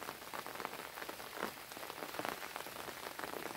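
Rain falls steadily on a vegetable garden planted with eggplants and peppers, a dense, even patter of drops with no voices.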